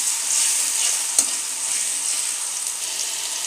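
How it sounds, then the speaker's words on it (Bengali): Spice pastes fry in hot oil with a loud, dense sizzle that holds steady throughout, broken once by a short sharp clink of stirring. "সব বাটাগুলো ভেজে নিতেছি"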